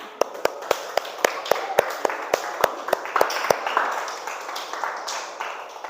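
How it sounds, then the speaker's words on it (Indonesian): Schoolchildren in a maths class clap hands together in a steady, evenly spaced rhythm, crisp distinct claps that blur into looser applause toward the end. "Kita tepuk tangan karena kita telah melaksanakan semuanya dengan baik."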